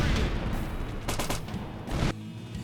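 Gunfire and explosions from an RTS/FPS hybrid video game: dense bursts of rapid shots and heavy booms follow one another, with a loud blast near the end, all close and punchy.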